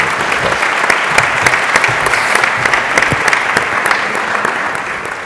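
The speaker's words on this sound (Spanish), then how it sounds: "habrá que aplaudir para darle un poco" Sustained applause from a sizable crowd, dense and steady clapping filling the room at full volume with a slight fade toward the end.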